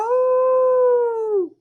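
A voice imitates a long, mournful dog howl: one sustained, steady wail held for well over a second and then trailing off, loud and close with nothing else heard.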